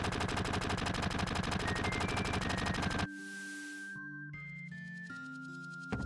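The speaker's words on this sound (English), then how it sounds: "It turns out he was shooting at some thief behind us." Rapid gunfire from Final Fantasy VII rattles loudly and continuously for about three seconds, then cuts off abruptly into game music with no voices.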